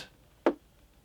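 A single short, clicky transient, the bright upper layer of a kick drum, heard alone and fairly quiet.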